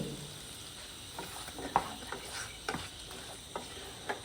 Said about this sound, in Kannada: ಇವಾಗ ರುಬ್ಬಿರುವ ಮಸಾಲೆ ಹಾಕಿ ಒಳ್ಳೆ ಫ್ರೈ ಮಾಡ್ತೀನಿ